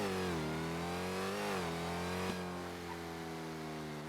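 A loud car engine in a video game holds a sustained, steady drone with a couple of slight pitch dips and rises as it revs. The sound stays alone and continuous from start to finish.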